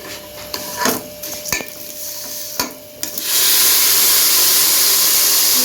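Vermicelli (seviyan) dry-roasting in a pan, with a few sharp scrapes and clicks of stirring, then a loud, steady sizzling hiss that swells in and holds to the end.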